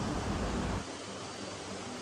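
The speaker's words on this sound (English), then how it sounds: "This is the very beautiful sound of the waterfall." Waterfall at Tingkat Valley in Ipoh, Perak, roaring as a steady, dense wash of rushing water, loud and close throughout, with the low rumble dropping slightly partway through.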